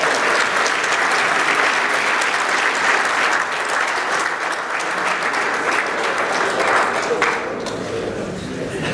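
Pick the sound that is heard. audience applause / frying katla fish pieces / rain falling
audience applause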